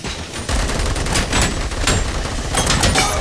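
Rapid gunfire bursts from the Robocop: Rogue City video game on PS5, loud and dense, repeating fire that fills the whole stretch without pause.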